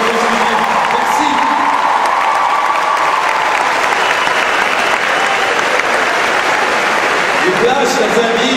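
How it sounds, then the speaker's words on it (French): A large crowd at a Japan Expo 2014 anime premiere of Black Butler bursts into loud, sustained applause with scattered cheers and whoops, voices audible underneath. "je voudrais un tonnerre d'applaudissements"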